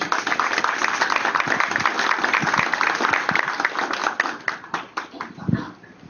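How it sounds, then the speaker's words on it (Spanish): Applause from a small audience after a book presentation at an academic talk on multicultural ethics: brisk clapping that thins out toward the end into a few scattered claps. "un aplauso por la presentación de su libro"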